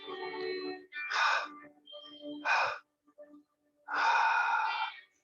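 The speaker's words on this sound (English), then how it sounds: "Together, let's take a long, deep cleansing breath." During a mindful movement exercise class, a person takes slow, deep breaths, with several long audible inhales and exhales separated by quiet pauses and close to the listener.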